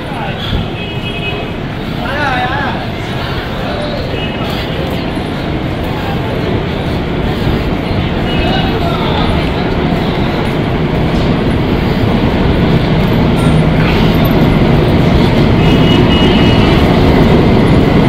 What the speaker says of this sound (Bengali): ট্রেন এসে গেছে আমাদের।